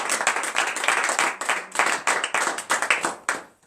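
A congregation at a morning prayer service claps in quick, uneven bursts. The applause is close and fairly loud and continues steadily for a few seconds.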